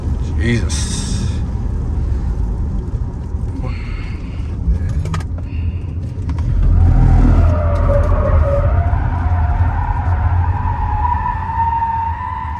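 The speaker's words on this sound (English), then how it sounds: "You got good drifting skills." A Zeekr CX1E electric SUV, a 200 kW single-motor rear-wheel-drive car, drifts on a rain-soaked road, its tyres hissing and scrubbing with a rising electric whine, while people talk inside the car throughout.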